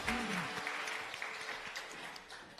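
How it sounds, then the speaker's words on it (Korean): Faint, steady applause from an audience welcoming a speaker at a church gathering, a brief wash of clapping running throughout with a short vocal tone near the start. "자 우리 박수로 환영하겠습니다."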